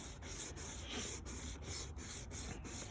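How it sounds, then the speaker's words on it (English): A cloth rubs Turtle Wax compound up and down on a 1999 Volkswagen Beetle headlight, making a close, continuous abrasive scrubbing with quick regular strokes and brief breaks at each change of direction. "I'm just going to rub it up and down."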